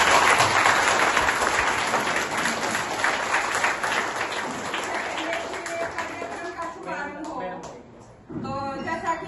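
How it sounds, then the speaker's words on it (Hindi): An audience at a school function claps loudly and steadily, then the applause thins and fades, giving way to a voice speaking near the end. "जोरदार तालियां।"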